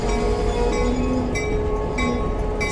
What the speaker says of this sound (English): GP38-2, number 2013. That's a former Norfolk Southern diesel.